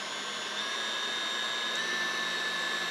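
A KitchenAid stand mixer whisks egg whites at high speed for meringue and marshmallow, a steady close whirring motor drone with a thin high whine that keeps going without a break.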